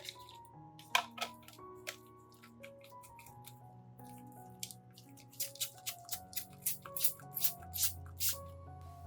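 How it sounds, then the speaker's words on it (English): A hand spray bottle mists fertilizer solution onto orchid leaves and aerial roots, giving a run of quick, soft spritzes in an uneven rhythm over quiet background music, near and faint. "misting this fertilizer solution onto the leaves and aerial roots of the orchid"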